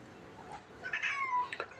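A cat meows a couple of times, soft and fairly close, against a quiet background, at a temple in Chae Hom, Lampang, Thailand.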